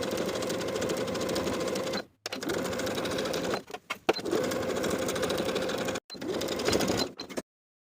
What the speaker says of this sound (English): We'll stitch in the ditch of the waistband, making sure that you're catching that inner folded edge as you go.